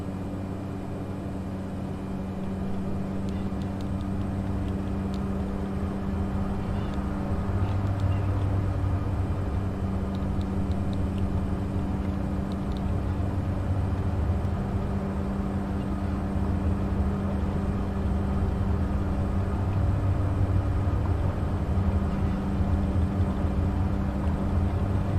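Propeller airplane accelerating down a runway in Microsoft Flight Simulator, a steady loud engine drone with constant low hum and broadband rush sustained throughout, no talking.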